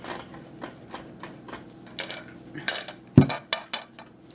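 Meatball ingredients with chopped celery are stirred together in a bowl, making irregular clinks, taps and clatters of a utensil against the dish. The strikes start sparse and quiet, then grow louder and busier.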